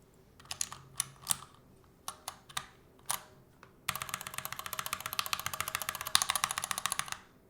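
Typing on an NK65 prototype mechanical keyboard fitted with GMK keycaps: a few scattered single keystrokes first, then a fast, steady run of crisp clacks, close and clear in a quiet room.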